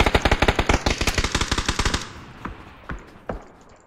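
Video game gunfire: a rapid automatic burst of about twenty close, loud shots lasting two seconds, followed by three spaced single shots.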